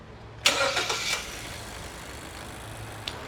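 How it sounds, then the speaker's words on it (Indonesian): A used car's engine cranks briefly and catches, then settles into a steady idle close by. "Kita coba hidupin yuk mesinnya."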